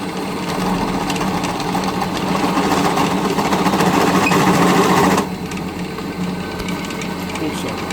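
A drill bores through a round steel bar, giving a steady whirring, grinding drone for about five seconds before easing to a lower, quieter run; close and continuous with no talk over it.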